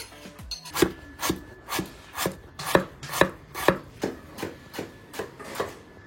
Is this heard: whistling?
no